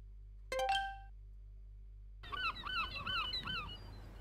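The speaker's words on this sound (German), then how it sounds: "Eine Möwe." A seagull calling in a German audio drama, a brief bright squawk followed after a pause by a run of repeated rising cries over low background hum.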